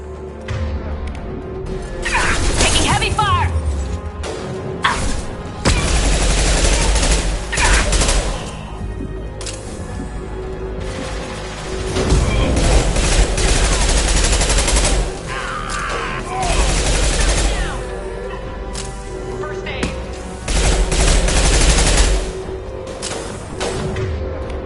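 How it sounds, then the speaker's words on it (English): Heavy gunfire in a Mass Effect 2 video game firefight: dense, sustained bursts of shots and booming impacts, loud and close, with brief lulls between volleys. "Taking heavy fire!"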